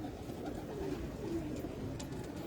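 Soft, low cooing of pigeons inside a pigeon loft, a steady murmur of coos close by and fairly quiet, with no talking.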